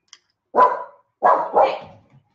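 A dog barks three times nearby, loud and sharp, with a pause after the first bark and the last two close together.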